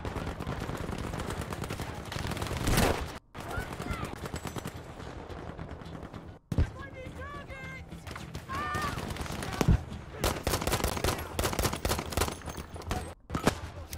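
Rapid gunfire in the Battlefield V beta crackles almost continuously, with loud bursts and short gaps, while someone talks over the shooting.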